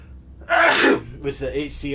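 A single sharp sneeze bursts out close by, followed by a brief muffled voice.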